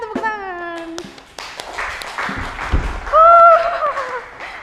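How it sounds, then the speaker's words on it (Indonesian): A studio audience on a talk show claps in a short burst under and between lively voices, followed by a sung or drawn-out vocal phrase. "Tepuk tangan semuanya, tepuk tangan."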